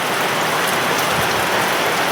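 Heavy rain pours down steadily in a dense, continuous hiss with no breaks and no voices.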